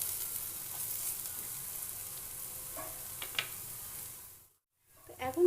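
Potato and pointed gourd fry in a pan with a soft, steady sizzle, broken by a few faint clinks. The sizzle drops out briefly near the end, then a louder clatter follows.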